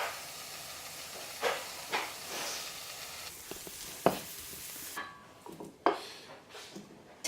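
Pre-cooked prawns frying in a pan with a little oil and clear honey, giving a soft, steady sizzle and hiss with a few louder pops and clatters of the pan, quiet and close.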